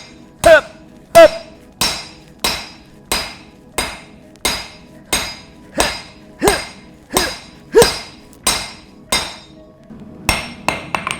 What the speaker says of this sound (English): This is an 8-pound hammer.